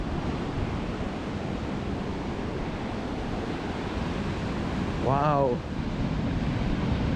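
North Sea waves surge steadily against the Scottish coast in a continuous broad wash of surf with some wind rumble, and a voice briefly exclaims near the end.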